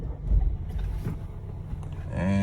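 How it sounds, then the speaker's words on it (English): An Audi A4 engine cranks and catches near the end, a steady idle hum rising after a low mechanical rumble, close and fairly quiet. "Let's turn the car on."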